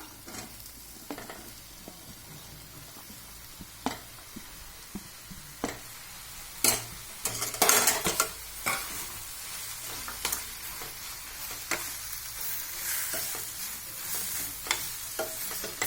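Mushrooms stirred into a thick frying masala paste in a pan, a soft sizzle broken by repeated clacks and scrapes of a spoon, busier bursts of stirring near the middle, no talking.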